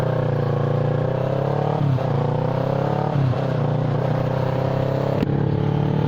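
A Kawasaki ER6n motorcycle ridden at night, its engine droning steadily up close with slight shifts in pitch and a couple of brief dips, wind noise underneath, no talking.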